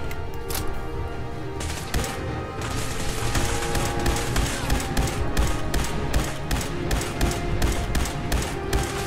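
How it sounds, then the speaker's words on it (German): Institute rifle fire in the video game Fallout 4, a dense run of rapid, closely spaced shots cracking through a busy combat mix of thuds and impacts, steady and loud throughout. "Institutgewehr. Ja, noch ein paar Schuss."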